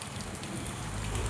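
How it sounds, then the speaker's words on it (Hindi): Dense, steady hiss of heavy rain pouring down, with a low rumbling undertone throughout; no voices. "अब यहाँ से दिखने पर तेज हो रही है बारिश"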